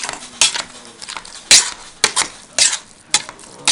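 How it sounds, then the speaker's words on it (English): Potatoes mashed in a pot with a hand potato masher, a run of close, sharp, irregular thumps and scrapes about every half second, with no talking. "Now get our potato masher and just mash those up."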